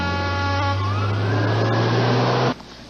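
A fire engine responds to an emergency call with its siren wailing loudly up and down over a heavy low horn-like drone, close and continuous, then cutting off abruptly near the end.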